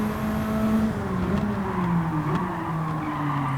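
A Ferrari F50 engine pulls under heavy throttle through tight corners in Gran Turismo 7, a loud continuous tonal drone sliding slowly down in pitch, with faint tire scrub beneath.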